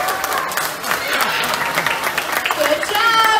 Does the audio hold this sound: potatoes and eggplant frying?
no